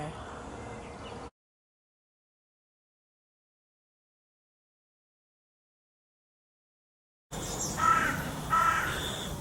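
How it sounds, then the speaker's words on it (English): Birds calling in spring woodland with bluebells at Ferry Meadows, Nene Country Park, a crow cawing twice amid quieter birdsong, with a long silent gap in between. "The bird song's absolutely beautiful."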